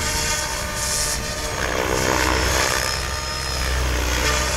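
Loud, steady rotor whine and buzz of an RC helicopter flying 3D aerobatic manoeuvres, with rising and falling pitch surges as it flips, heard continuously with no talk.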